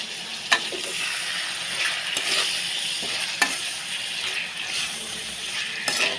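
Meat fries in a pan with ginger-garlic paste, giving a close, continuous sizzle broken by a few sharp clinks and scrapes of stirring.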